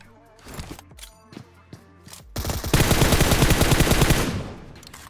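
PUBG Mobile gunfire: a few scattered shots first, then a dense, loud stream of rapid automatic fire lasting about two seconds before it tapers off.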